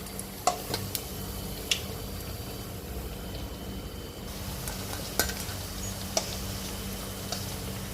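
Vadai deep-frying in hot oil gives a steady, close sizzle and crackle, broken by a few sharp clicks of a utensil against the pan, with no talking.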